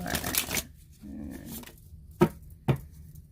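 Oracle cards are shuffled by hand, with a soft riffling rustle early on followed by two crisp, close taps as the deck is squared, heard alone in a quiet room.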